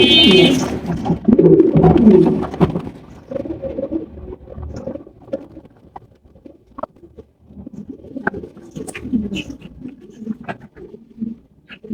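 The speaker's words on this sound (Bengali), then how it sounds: "একজোড়া আমেরিকান টেলমার্ক কবুতর ব্ল্যাক টেলমার্ক" A pair of large black American Tailmark pigeons coos in deep, rolling bursts, loud and close at first, then in softer repeated phrases mixed with light scratching and wing or foot patter.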